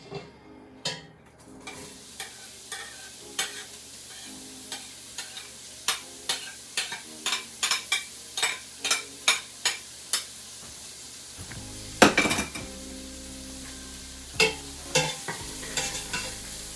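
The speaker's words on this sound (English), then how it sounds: "I'm just going to saute in that extra bacon fat that I have remained from the bacon" Chopped onion sizzles in leftover bacon fat in a pot on a medium stove for Zuppa Toscana soup, with a steady frying hiss and a series of sharp spoon clacks and scrapes against the pot as it is stirred, close and alone.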